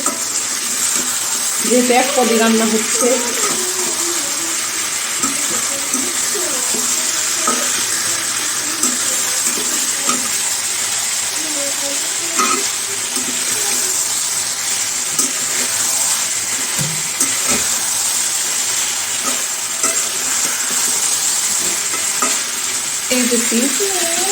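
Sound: pre-fried chicken being stir-fried with spices

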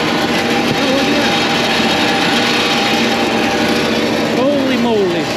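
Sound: failing air conditioner condenser fan running

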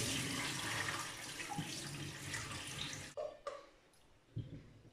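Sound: cold tap water running into a pot

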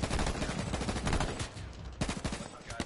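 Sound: gunfire in video game H1Z1

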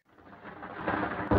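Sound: thunder from a lightning strike in a fairy tale

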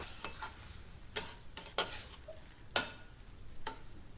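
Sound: stirring in fried peanuts, lemon juice and chopped coriander

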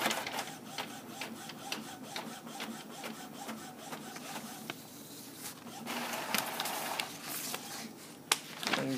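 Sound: Epson printer printing a page

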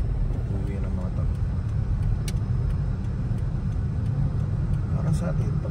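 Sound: road traffic in Olaya, Riyadh

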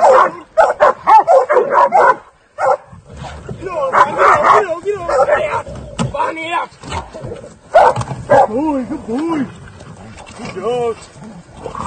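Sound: pig hunting dogs barking

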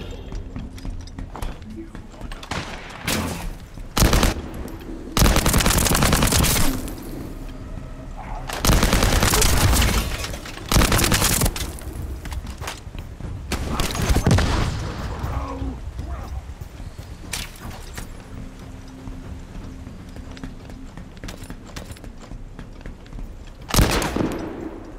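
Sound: gunfire from a gun in the video game The First Descendant

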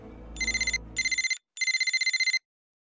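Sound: phone ringing in video game Chronicles of Mystery

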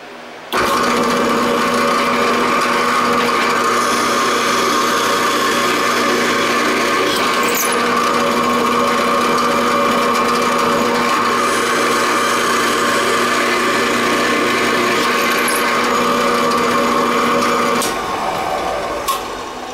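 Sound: power drill drilling holes

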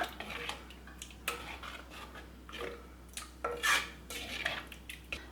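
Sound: stirring curd curry in a clay pot

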